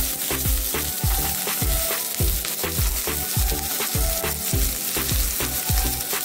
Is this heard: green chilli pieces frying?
yes